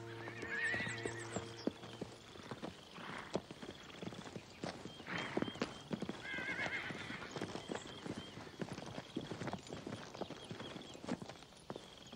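Steady clip-clop of horse hooves walking at an even pace, with a horse whinnying briefly near the start, all fairly quiet and distant.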